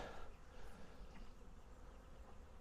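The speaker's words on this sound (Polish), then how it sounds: "Pszczoły sobie latają" A steady, low insect buzz from many bees, continuous and fairly quiet, with individual wings droning nearby and drifting past.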